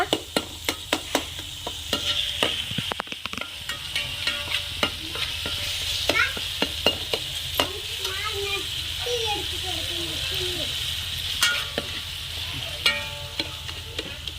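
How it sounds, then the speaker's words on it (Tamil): Tomatoes with salt sizzle and fry in a pan as a base for fish kulambu, with frequent scraping stirs throughout and someone talking over the cooking. "தக்காளிக்கு கொஞ்சம் உப்பு போட்டுக்கோங்க குழம்புக்கு தேவையான அளவு உப்பு போட்டு நல்லா பரட்டி விட்டுருங்க"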